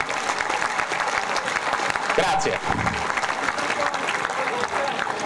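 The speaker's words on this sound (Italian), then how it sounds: "Li ringraziamo con un applauso per il loro lavoro." A crowd at the Foligno Calcio football club's team presentation evening breaks into steady, dense applause that fills the whole stretch, with a voice briefly speaking over the clapping.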